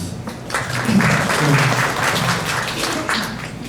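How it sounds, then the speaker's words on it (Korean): Applause from an audience at a medical society lecture on hypertension management, a steady, even clapping that fills the room for the whole stretch. "좋은 강의 박수로 진행되겠습니다."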